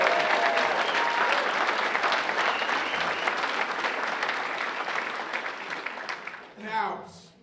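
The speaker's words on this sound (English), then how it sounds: "So give yourselves a round of applause." An audience at a Democratic rural political conference applauds loudly in a steady, dense wash of clapping that fades slowly toward the end.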